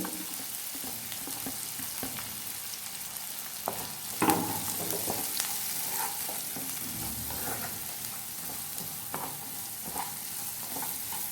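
Chopped onion fries in a pan for egg tava pulao until reddish, a constant close sizzle with intermittent spatula scrapes and taps, including one louder knock midway; no one speaks.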